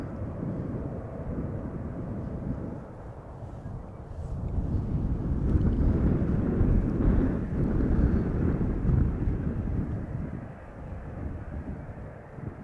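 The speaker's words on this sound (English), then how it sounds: "the Embraer 190 is creeping ahead, skipping the line" A KLM Embraer 190 airliner, flight 1929 bound for Geneva, taxis at Schiphol Airport as a steady, distant low jet rumble that swells midway and eases off, with some wind noise.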